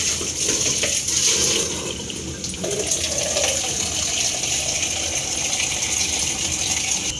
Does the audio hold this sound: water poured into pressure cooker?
yes